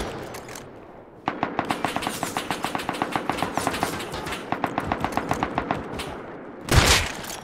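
Rapid automatic gunfire from the survival game Rust, with a crowd of players outside a base: two long runs of evenly spaced, sharp shots, then a brief louder blast near the end.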